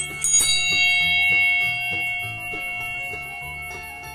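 A wish bell called the Jonen bell on a mountain trail is struck, its bright metallic tone ringing out with several strikes and long sustained overtones that slowly decay.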